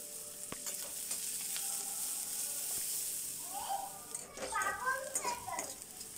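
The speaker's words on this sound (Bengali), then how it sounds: "এরপর পেঁয়াজ কুচি দিয়ে দিলাম।" Chopped onion frying in oil with cumin and bay leaf, a soft steady sizzle close by, with a voice chattering faintly over it toward the end.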